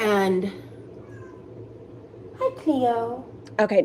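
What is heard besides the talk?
cat meowing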